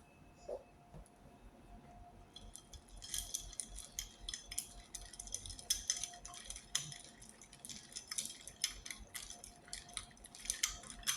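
Yeast stirred into pizza dough in a bowl, a quiet opening followed by a run of close, faint clinks, scrapes and taps as the mixture is worked, continuing irregularly to the end.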